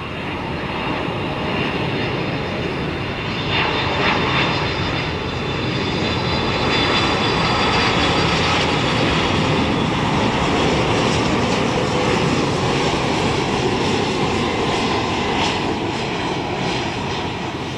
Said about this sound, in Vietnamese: bây giờ thì chiếc máy bay hạ cánh xuống đường băng 25 phải đã